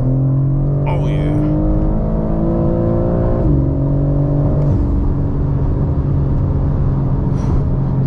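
A 2022 BMW M4 Competition with a tuned dual-clutch gearbox pulls hard in a straight line, its loud, close engine drone climbing and dropping sharply at each quick gearshift. A voice briefly breaks in near the start and near the end.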